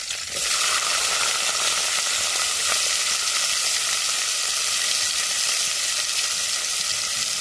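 Urad dal, curry leaves and onion sizzle in hot oil in a home kitchen, a steady, bright crackle that starts abruptly and holds evenly throughout.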